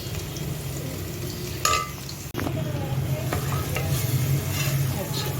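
Tomato masala sizzles and fries in a pan while a spoon stirs it, with a crackling hiss throughout and a couple of sharp scrapes and clinks close by.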